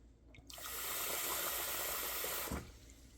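Tap water runs steadily into a pot of uncooked rice for about two seconds, a close, full splashing gush that starts and stops abruptly with no talk over it.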